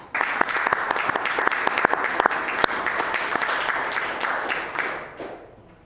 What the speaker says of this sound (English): I think a clap for our team is well and truly warranted.